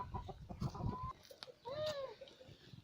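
A village chicken feeds and gives a few soft clucks close by, with brief louder calls near the middle over light background noise.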